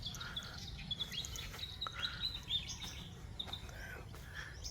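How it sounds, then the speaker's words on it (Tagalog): Birds whistle and chirp in trees on a farm in short, high, scattered calls, moderately distant, over a low steady rumble of outdoor background noise. "dami nito naninirahan ng mga ibon, yung sumisipol."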